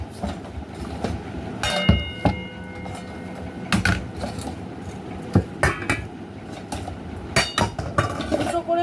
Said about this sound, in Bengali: এবার গোছাবো বাসন এই যে এত বাসন সব গুছিয়ে রাখি জায়গাটা জায়গায়